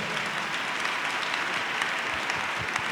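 A church congregation applauds steadily throughout, a dense, even wash of clapping that holds at a constant level from start to finish with no voices breaking through.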